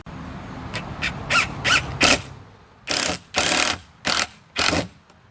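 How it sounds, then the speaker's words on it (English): A drill bores pocket holes in wooden pieces for a farm-style end table. Short whirring bursts start and stop in an uneven series, close by, with quiet gaps between them. "let's go ahead and get our pocket holes drilled in all our pieces"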